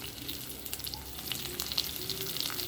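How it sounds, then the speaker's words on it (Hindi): Steady crackling sizzle of chopped onions and curry leaves frying in hot oil, with faint popping and spattering throughout, fairly quiet and close. "कटा हुआ प्याज और कड़ी पत्ता ये हम जो है इसमें डाल देते हैं तड़के में"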